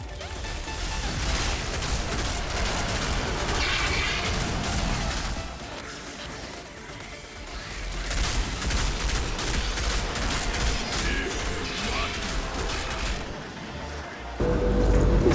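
Rapid, sustained gunfire from a Technomancer build in Outriders, dense bursts of shots and impacts blasting almost continuously, briefly easing midway before surging again loudly.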